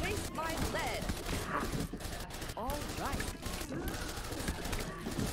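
Machine guns fire in dense bursts during a They Are Billions campaign battle against swarms of infected. The crackling is continuous and busy, with layered shots and game effects packed close together.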